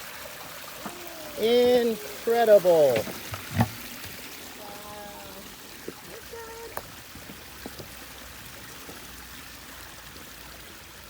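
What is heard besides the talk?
water flowing out of a new waterfall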